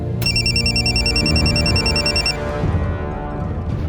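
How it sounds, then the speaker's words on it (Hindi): Incoming-call ringtone on a mobile phone in a Crime Patrol crime drama, a loud electronic repeating melody that starts abruptly and plays for about two seconds over low background music, then cuts off. "बंका जिसका फोन उठाने पर मजबूर हो गया था, जिसका नाम मोबाइल पर पढ़ते ही वो बुरी तरह से घबरा गया था"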